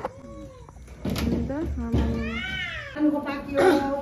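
Several fighting cats screech and caterwaul in loud, overlapping yowls and rising wails, nearby and agitated, with short gaps between bursts.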